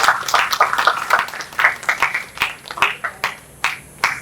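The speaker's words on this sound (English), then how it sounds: "So let's give a big round of applause to them." Audience clapping at a Rotary club inaugural event in Thane, a moderate scattered round of hand claps from a small crowd, thinning out toward the end.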